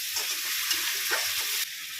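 A quiet, even hiss of shrimp frying in a pan, broken by a couple of brief stirring taps, with the sizzle dropping slightly near the end.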